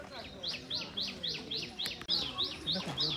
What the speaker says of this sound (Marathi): या ठिकाणी पक्ष्यांचा आवाज एवढा येतोय तर बघा तुम्हाला येतोय का